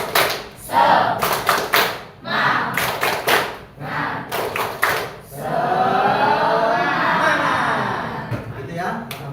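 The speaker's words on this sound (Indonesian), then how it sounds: "Tepuk semangat." A class of students does a rhythmic spirit clap during an informatics lesson, sharp grouped claps and taps in a patterned beat, followed by a stretch of voices and a sustained tonal sound.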